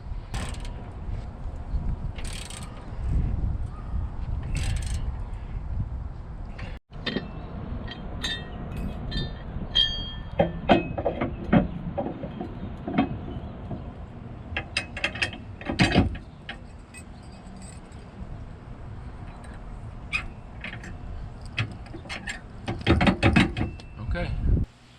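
Trailer hitch bolts are hand-tightened on a 2011 Jeep Liberty, with scattered metallic clinks, scrapes and creaks heard up close at an uneven pace.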